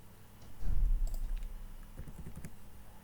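A short burst of computer keyboard keystrokes, a few soft clicks as a password is typed for locking a file archive, quiet and close with low background hum.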